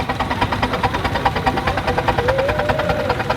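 Steam engine running at a rally, a simple single-crank design, chuffing in a steady fast rhythm with a continuous mechanical clatter, fairly loud and close, with a brief whistle-like tone rising near the end.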